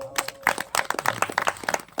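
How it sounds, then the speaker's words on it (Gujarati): An audience applauds to welcome devotees at a devotional gathering, with moderate, uneven handclaps in a loose rhythm over about two seconds. "ભક્તોને તાળીઓથી વધાવો"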